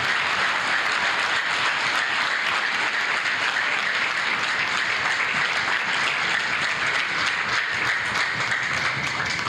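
A church congregation at a sermon claps loudly and steadily for several seconds, many hands blending into a continuous roar with individual sharp claps popping out, no voices on top.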